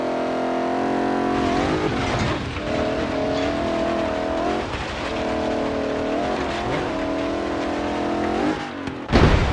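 A 1972 Mercedes-Benz 300 SEL engine in Forza Horizon 3 revs loudly and steadily, climbing in pitch through repeated gear changes with brief dips between pulls, ending in a short burst of noise.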